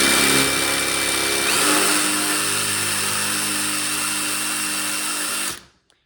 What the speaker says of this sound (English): take your drill bit, and you're slowly just gonna have to work it in